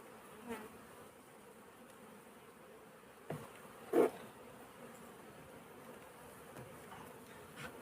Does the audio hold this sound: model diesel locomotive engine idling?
no